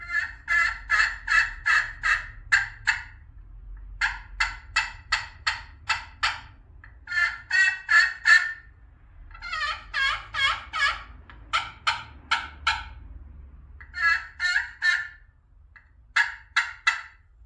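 A homemade turkey pot call with a large playing surface being worked by hand, producing bursts of close, clear yelps and clucks in quick rhythmic series with brief pauses between runs, no talking.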